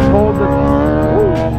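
A motorcycle engine revs and holds steady throttle up close while setting up a wheelie, a loud continuous drone with a brief rise in pitch partway through.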